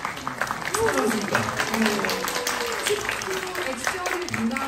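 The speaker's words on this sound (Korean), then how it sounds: "객석에 계신 정주희 선수님께 저희 박수 예, 부탁드립니다." Applause from a seated audience at a Korean football league press conference, steady clapping running the whole time under a presenter's continuing speech.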